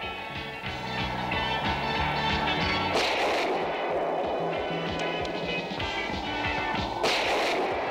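Gunfire in a 1989 Mexican action film: dense, rapid shots crackle continuously over a loud, busy background mix, with sharper bursts standing out, close and intense throughout.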